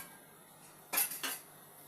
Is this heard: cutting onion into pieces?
yes